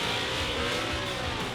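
Formula Drift cars battle at Irwindale, engines roaring steadily with a dense, loud wash of revving and tire noise filling the whole stretch without a break.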